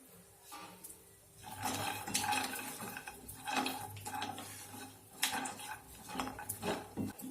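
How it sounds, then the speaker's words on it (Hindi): A utensil stirs and scrapes cashews and walnuts roasting in ghee in a hot pan over low-medium flame, with soft, irregular clinks and rustles against a faint background sizzle, growing busier after the first second. "काजू और अखरोट बहुत जल्दी भुन जाते हैं"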